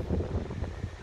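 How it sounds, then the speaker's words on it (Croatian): Light wind buffets the microphone in a short outdoor gust, a soft low rumble with uneven swells and no talking, near a small hand-built structure. "malo puši vjetar"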